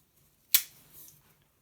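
The small scissors on a Victorinox pocket knife make one sharp, close metallic snip, with a short soft rattle of handling just after, in a quiet room.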